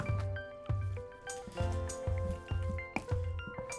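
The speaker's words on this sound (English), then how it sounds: "Give it a good stir again." Thick chunky chili with beans and corn stirred in a pot, a regular series of wet squelching sweeps with faint clinks of the spoon against the pot, close up and alone.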